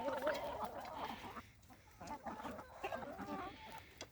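Chickens clucking and murmuring close by while eating greens, a busy continuous chatter of fowl with soft pecking activity throughout.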